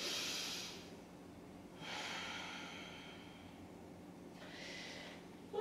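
Slow, deep breaths drawn in and let out during a beginner yoga session, three soft airy whooshes spaced a couple of seconds apart, close and quiet with no talk.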